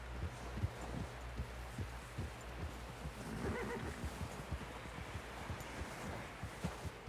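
A horse in the Red Dead Redemption 2 video game whinnies while its hooves clop in a steady, rhythmic beat under a low, constant game background.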